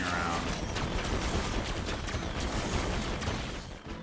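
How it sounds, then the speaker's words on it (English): Explosions and combat in the video game Dungeon Defenders 2, a dense, continuous barrage of booms and mechanical clatter that fills the whole stretch and eases off slightly at the end. "I could hear you over the explosions"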